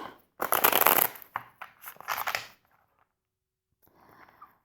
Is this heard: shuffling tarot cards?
yes